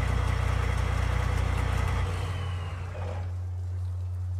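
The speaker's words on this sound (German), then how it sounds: "Drescher. Starten Motor." Combine harvester engine in the Farming Simulator 19 video game runs with a steady low mechanical drone, shifting in tone partway through as it settles, loud and constant without talk.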